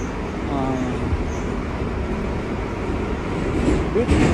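Inside a moving Moscow metro carriage, the train runs with a steady low rumble and rattle, with a muffled voice briefly heard and some squealing toward the end.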